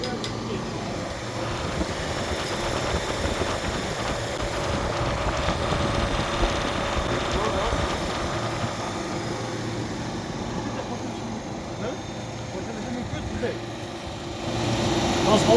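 A refrigeration unit's motor hums low and steady in a cold store, a constant quiet drone with a voice talking over it.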